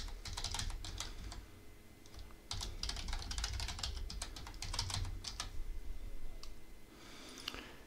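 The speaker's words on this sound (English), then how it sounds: "We're gonna need to enter in our password." Fingers type a password on a computer keyboard, a fast, close run of crisp key clicks in bursts with short pauses between them, over a low steady room hum.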